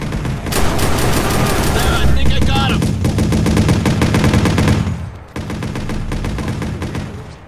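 Rapid, sustained gunfire in a sniper shooter match: dense crackling automatic bursts fill almost the whole clip, loud and near, with a brief dip before another stretch of shots, and voices talking over it.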